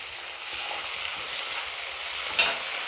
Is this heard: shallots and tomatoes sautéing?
yes